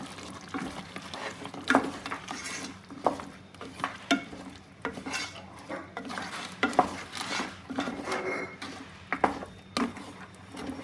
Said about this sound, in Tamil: அரைச்ச தக்காளியை கொம்பனுக்கு மேலே இறக்கிட்டோம். போட்டு நல்லா மிக்ஸ் பண்ணணும்.